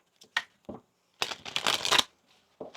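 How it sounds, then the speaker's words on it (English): Tarot cards being shuffled by hand: a few soft taps and riffles, then a dense crackling burst of flicking cards lasting under a second, followed by a faint final tap, close and quiet. "One more shuffle here."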